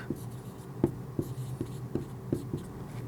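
Pen writing out answers to English grammar exercises on active and passive voice, a series of soft, close scratchy strokes and taps in an irregular rhythm, with no talking.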